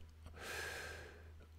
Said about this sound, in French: je suis en train de m'étouffer là, j'essaye de, prendre ma respiration